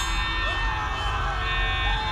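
A fire alarm ringing in the Poppy Playtime video game, a steady, continuous electronic alarm tone with a layered, sustained pitch, moderately loud and unbroken for the whole moment.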